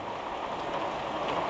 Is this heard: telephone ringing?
no